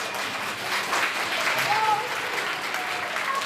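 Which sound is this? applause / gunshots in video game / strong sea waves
applause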